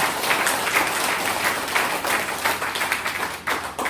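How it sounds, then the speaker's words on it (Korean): Audience applauding at a political seminar in Yeoju, a dense, steady wash of many hands clapping that stays loud throughout and tapers only slightly near the end. "박수 한번 쳐도 될 것 같습니다."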